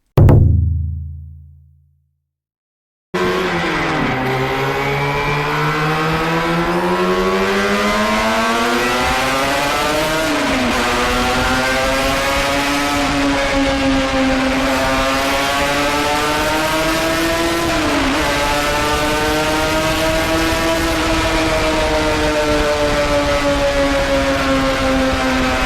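Yamaha TZR250 3MA rear-exhaust two-stroke motorcycle with an aftermarket expansion chamber, ridden hard with a loud, raspy, buzzing engine note rising and falling through repeated revs and gear changes, close and continuous after a brief quiet start.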